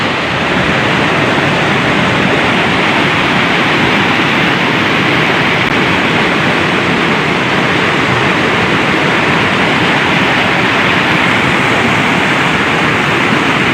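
Heavy rushing floodwater during a flood after rain, a dense continuous roar of broadband water noise, loud and steady throughout with no clear talk.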